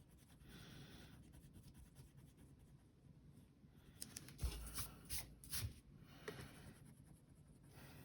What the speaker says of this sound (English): now I'm going to erase my horizon line inside of my skyscraper